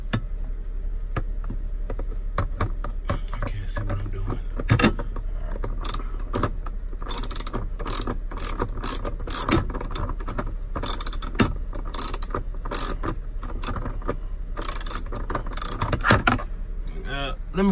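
A ratchet tightens a fitting on a Jeep, with irregular metallic clicks and clanks over a low steady hum, close and fairly loud, plus some handling rattles of tools.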